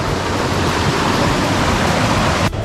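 Osambak Falls in Baganihan, Marilog, swollen and brownish after frequent rain, roars as a loud, constant broadband rush of falling water close by, with a brief dip near the end.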